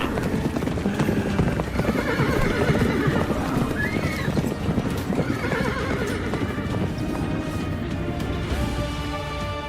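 Horse hooves clip-clop steadily while horses neigh and whinny, several animals layered together in a busy, continuous mix generated by a web-based sound tool, with no speech over it.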